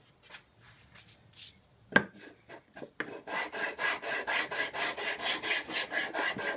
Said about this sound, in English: But I need to cut off a half inch off of each side of this to fit the width.